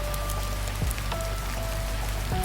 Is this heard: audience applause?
no